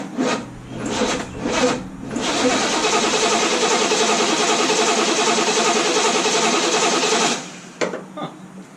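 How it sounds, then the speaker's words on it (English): A third-generation Pontiac Trans Am cranks with a few short, uneven bursts, then catches and runs in a loud, steady roar for several seconds before cutting off abruptly. "Took a minute to even turn over right."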